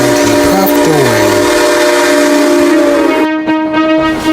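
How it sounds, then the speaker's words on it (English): A Southern Pacific locomotive horn blows as the train departs, a loud sustained multi-tone chord close by that holds for several seconds over a rumbling engine before cutting off. "Andrew blew his Southern Pacific 6 horn and he puffed away."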